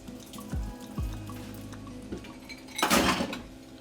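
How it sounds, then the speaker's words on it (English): Iced water poured over spinach in a kitchen, with clinks of dishes and cutlery, a couple of knocks, then a louder splashing rush of water near the end; no talk. "I'm pouring iced water over the spinach"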